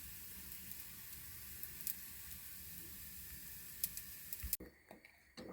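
Crepe batter for apple pancakes sizzles quietly in a pan, a faint, even hiss that holds steady before the sound shifts to a few soft, scattered clicks near the end.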